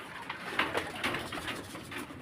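Racing pigeons in their loft coo softly in a few low, throaty bursts, faint and close, with no talk over them.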